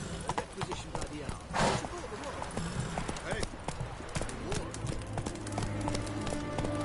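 Roach the horse gallops in The Witcher 3 video game, hooves clip-clopping in a quick running rhythm under talking voices and continuous game ambience.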